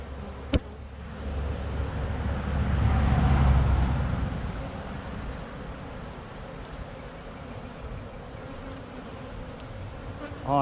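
Honeybees buzz around a hive frame during queen searching, a close continuous insect drone swelling louder in the middle and easing off, with a couple of sharp handling knocks.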